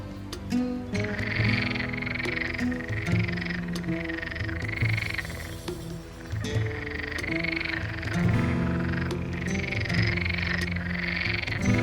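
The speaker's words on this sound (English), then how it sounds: "Even during the day, Sahara frogs can be heard calling from the pond." Sahara frogs call from a pond in Morocco in a dense, continuous daytime chorus of rhythmic croaks and trills that overlap steadily throughout.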